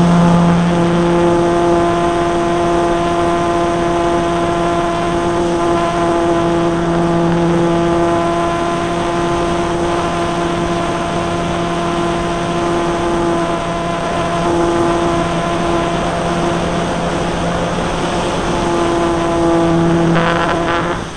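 A Multiplex EasyGlider Pro RC model plane with a camera fitted has its electric motor running at a steady high whine for the whole stretch, loud and close, with a slight pitch lift near the end.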